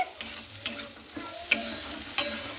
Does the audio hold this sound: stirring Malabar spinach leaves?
yes